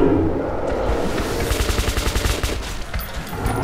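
Rapid automatic gunfire in Metro Last Light, a sustained burst of loud, closely spaced shots that holds steady for several seconds before thinning out, with no voices.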